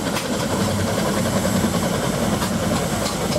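A steam traction engine, a one-man operated engine built to an original Wallace and Stevens drawing, rolls past in a show parade at a steam and craft show with a steady mechanical chuffing rumble amid outdoor crowd noise.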